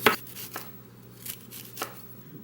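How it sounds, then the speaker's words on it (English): Raw broccoli is chopped finely with a knife on a board, giving four sharp separate cuts spaced out over a quiet background, close and with no talk. "Try to chop it as fine as you can."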